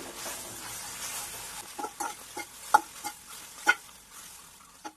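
Shredded parotta mixed with egg is stirred in a hot pan, giving a soft sizzle under a run of close scraping and tapping strokes from a spatula that grow sharper toward the end, with no voices.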